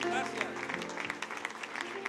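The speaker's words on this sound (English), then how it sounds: "dele un aplauso fuerte al Señor" A church congregation claps steadily and loudly throughout, a dense wash of applause with a voice carrying over it.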